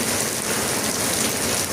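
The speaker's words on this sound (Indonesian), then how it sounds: "Hujan terus, paket masih 2." Steady rain falls in a constant, dense hiss with no pauses, heard up close and alone without any voices, in a rainy spell during a motorbike courier's delivery shift.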